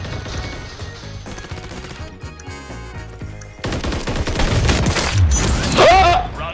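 Gunfire in Call of Duty MW3 during a sniper-rifle match, with dense bursts of shots and game explosions layered over game music, loud and continuous, while a player talks over the action.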